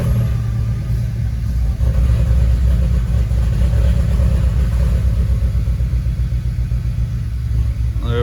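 An Audi A5 with a newly fitted clutch, pedal held in, cranks and fires up, a loud close rumble that settles into a steady, slightly uneven idle with rhythmic engine pulses.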